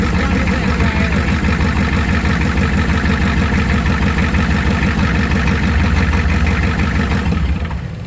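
A long-idle International 7.3L IDI diesel runs with one injector line cracked loose, a loud, close, steady clattering idle that drops away slightly at the very end.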